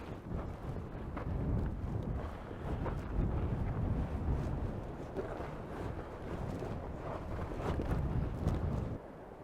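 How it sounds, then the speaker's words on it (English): Strong, gusty wind buffets the microphone on a steep hike up toward the Hohokam ruins during a storm, a continuous low roar swelling and easing throughout with no voices. "this wind is getting intense too"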